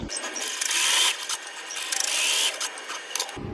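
An embroidery machine stitches straight basting lines for a side seam bow appliqué, giving a fast, close mechanical whirring chatter in two long bursts with a short pause between them.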